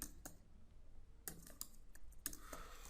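Computer keyboard typing while writing jQuery code, a run of close, crisp key clicks in irregular bursts with short pauses between them, fairly quiet against faint room noise.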